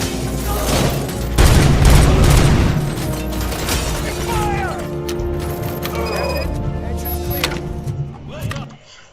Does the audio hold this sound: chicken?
no